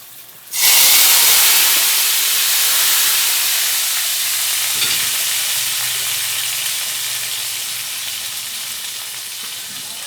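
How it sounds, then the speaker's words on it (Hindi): Loud, steady sizzling of tempering spices hitting hot oil for kadhi, a bright continuous hiss that starts abruptly and slowly fades over several seconds, with no talking. "और अब हम लगाएंगे कड़ी में तड़का।"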